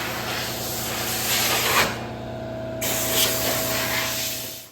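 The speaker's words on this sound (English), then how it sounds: "Pat is running acetone through his gun because he doesn't want it to be all clogged up" Acetone runs through an automotive paint spray gun in a shop as it is cleaned out: a steady loud hiss of spray with one short pause midway, then the hiss resumes before trailing off.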